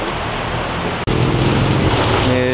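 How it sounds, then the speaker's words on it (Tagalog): Heavy rain pours down steadily and loudly during a motorcycle dash cam install on a Honda ADV, a dense continuous wash with a brief dropout partway through, no voices. "Medyo bumuhos yung ulan"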